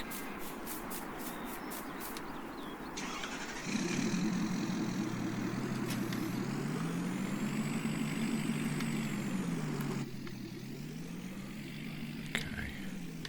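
Truck engine running in Farming Simulator 19 on a Greenwich Valley farm map, a steady low idle that rises and swells as the vehicle moves, with a brief hiss near the end fitting an air brake release.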